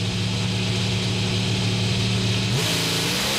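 Pro Stock drag racing cars launch four-wide at the ZMax Four-Wide Nationals, their engines roaring loud and continuous, with the pitch climbing sharply near the end as they pull away.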